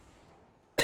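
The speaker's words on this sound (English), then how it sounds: "Apologize for the coughing yet again." A single sharp cough bursts in close and loud at the very end, after near-silence, from a commentator during a live esports match broadcast.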